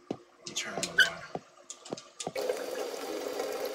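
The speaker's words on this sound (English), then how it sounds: "Turn on the water." Water gushes from a tap in a bathroom in an indie horror game, a steady loud rush beginning after a few sharp clicks and thumps and continuing to the end.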